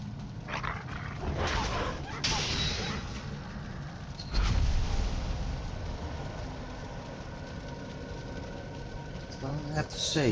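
Tamed wolves in the Valheim video game bark and yip in short bursts over a low engine-like game drone, with someone talking across much of it.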